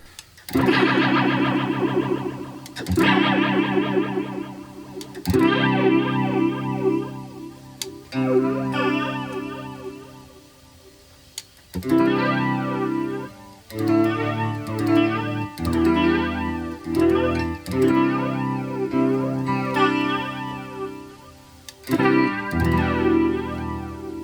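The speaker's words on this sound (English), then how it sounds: "this is where they're stacking chorus on top of the reverb and delays" Electric guitar notes and chords drenched in shimmering chorus stacked on a cheap rack reverb and repeating delay echoes, loud and sustained, with no one speaking.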